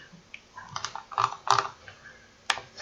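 Someone types a short number into a study app on a computer keyboard, giving a handful of close, crisp, irregular key clicks with brief pauses between them.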